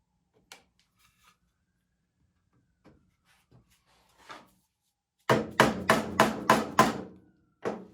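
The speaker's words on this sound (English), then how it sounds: "And then just pound it in place." A dovetail box joint, with mahogany nearby, being pounded into place with a hammer: a few faint taps, then a rapid series of six sharp close knocks and one more strike after a short pause.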